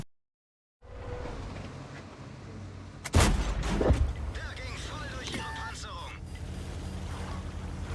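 A tank gun fires once in World of Tanks on the Mines map, a single heavy boom followed by a rumbling tail and scattered battle noise, with someone talking over the scene.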